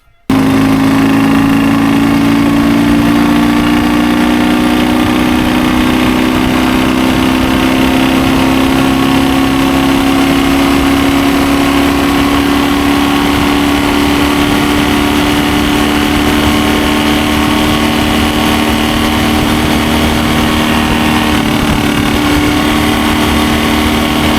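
An MT Dnipro 11 motorcycle engine runs loud and close for the whole stretch, holding a steady, throbbing idle with a constant droning tone and no pauses.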